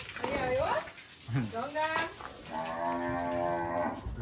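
Cows moo several times, close and loud, with long drawn-out calls; a voice speaks briefly between the lowing.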